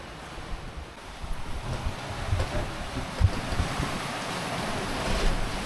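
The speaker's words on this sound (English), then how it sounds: "Some big waves come here and there." Big ocean waves surge and wash around a sailboat on a rough Caribbean-to-Bahamas passage, with steady wind roaring across the microphone and occasional louder swells, no voices.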